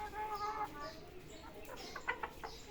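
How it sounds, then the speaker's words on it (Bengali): A young hen clucks in short bursts while laying an egg in a coop, with louder squawks near the end and a voice speaking in the background. "এই যে মুরগিটা ডিম পারছে মুরগিটা বেশি মানে একদম নবীন মুরগি"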